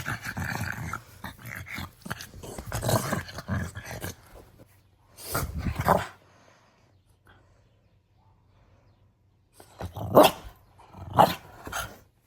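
A dog barks and growls in short bursts, with a scuffling stretch at the start, then separate loud barks after a quiet gap, close to the microphone.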